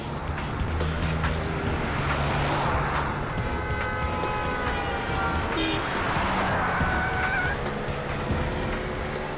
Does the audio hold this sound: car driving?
yes